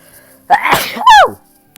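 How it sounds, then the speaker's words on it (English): A single loud sneeze up close, a sharp inhale followed by an explosive burst, then quiet, during Roblox Factory Town Tycoon gameplay. "I just had to sneeze."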